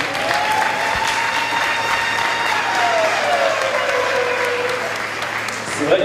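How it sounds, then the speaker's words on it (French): Audience at a gala applauding, a dense, continuous wash of clapping that stays at an even, loud level throughout, with a faint voice and a tonal sweep running through it. "Sous vos applaudissements s'il vous plaît, merci beaucoup."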